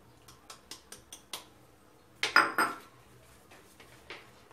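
Cake batter for almond cocoa amandine cakes is stirred in a bowl, with a quick run of light rhythmic taps, a louder cluster of clattering knocks, then a few softer clicks.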